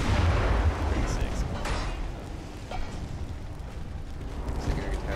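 A naval artillery salvo from warships in the game Ultimate Admiral: Dreadnoughts: a steady, loud, rumbling roar of heavy guns that runs the whole time, with a stronger burst at the start and a few sharper thuds later.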